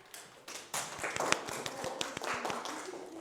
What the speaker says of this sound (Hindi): क्या बात है, ताली दो खुद के लिए।